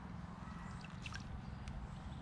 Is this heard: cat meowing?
no